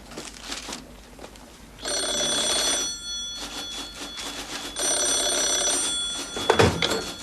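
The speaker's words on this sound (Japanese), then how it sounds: "電話ですよ" A telephone bell rings indoors in two long bursts separated by a pause, loud and close, followed by a dull thunk near the end.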